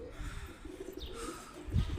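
Domestic pigeons cooing on a rooftop after landing near chimneys and antennas, soft low coos with a faint chirp, fairly quiet with a closer, louder coo near the end.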